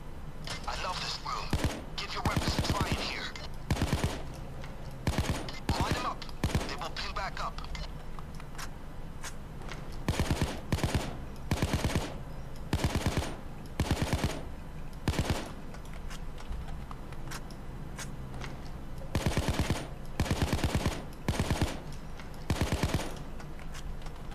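Gunfire at a shooting range in Payday 2, repeated bursts of loud rapid shots in clusters separated by short pauses, with voices talking between them.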